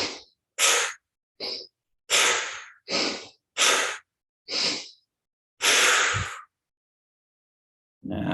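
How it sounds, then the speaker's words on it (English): Eight sharp power breaths, each a quick sniff in through the nose and a forceful puff out through the mouth, land in a steady rhythm, loud and close, separated by brief silences. "These are going to be sharp in the nose, out of the mouth."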